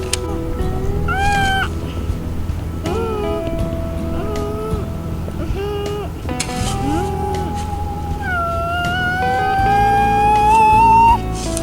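A child makes long, wavering vocal toy-truck engine and siren noises while playing with excavator and loader digger toys at the beach, voice rising and falling in pitch through continuous imitation.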